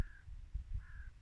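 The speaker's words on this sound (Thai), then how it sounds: "เสียงนกร้อง็นแล้วเสียงนกเสียงกานะ" Two harsh crow caws, one at the start and another just under a second later, fairly clear over low outdoor rumble.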